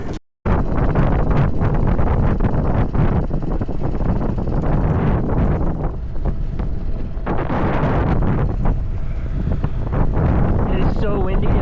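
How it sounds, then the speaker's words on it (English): Strong wind buffets a 1987 sailboat at anchor, loud continuous roaring gusts blasting the microphone for over ten seconds, with a voice faintly audible beneath. "It is so windy."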